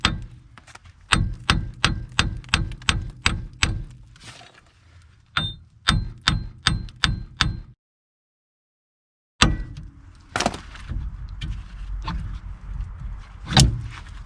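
A rusted front wheel bearing on a Hyundai Santa Fe being hammered: rapid runs of sharp metallic blows, a quick series of about eight, a pause, another burst, then silence before scattered louder strikes.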